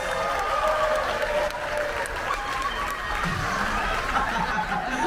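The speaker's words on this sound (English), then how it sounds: "Give them a round of applause." A cruise ship audience on the Carnival Sunshine gives honeymooners a round of applause, a dense, steady wash of many hands with crowd chatter and a few cheers mixed in, loud and continuous throughout.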